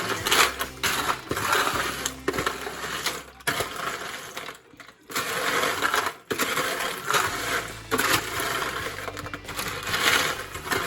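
Chex Mix cereal pieces rattle and crunch loudly as they are stirred in a pan, with some pieces spilling out, making continuous dense scraping and clattering broken by a few brief pauses.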